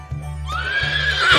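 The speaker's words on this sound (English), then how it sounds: "Horse." A horse whinnies close by, a single loud neigh rising into a high quavering call and holding to the end.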